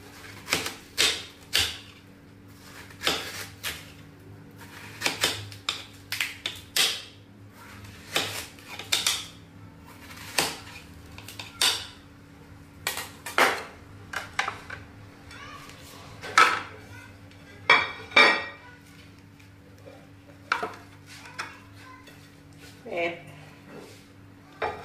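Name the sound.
watermelon being cut into pieces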